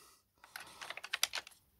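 Plastic toy figure being slid into the cockpit of a 1979 Fisher-Price Alpha Probe space shuttle toy, a quick run of close, light plastic clicks and scrapes with no talking.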